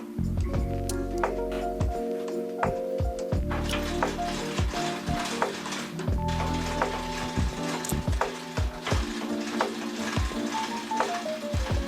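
Greased thicknesser being wound up and down on its threads: repeated mechanical ratcheting and clicking with grinding metallic rasps, continuous and fairly close, with no talk.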